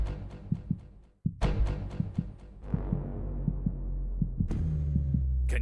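Heartbeat sound effect thumping in a steady rhythm that speeds up, the beats growing quicker toward the end over a low rumbling hum, with no talking.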